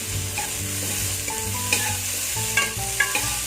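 Onions and tomatoes sauté and sizzle in a pan as a spoon stirs them for keerai kootu, a steady close frying hiss broken by scattered scraping and clinking stirs, with no talking.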